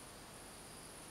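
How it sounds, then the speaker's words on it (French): Crickets chirp outdoors in a steady, dense trill under a wash of wind noise, faint and continuous with no voices. "Il y a du vent, on entend les grillons."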